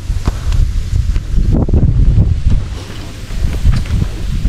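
Strong gusts of wind outdoors buffet the microphone with loud, uneven rumbling bursts that rise and fall throughout. There is faint rustling beneath, and no talk.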